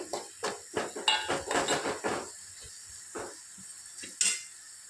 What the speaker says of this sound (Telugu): ఇప్పుడు మనం వీటిని కలుపుకుందాం ఒకసారి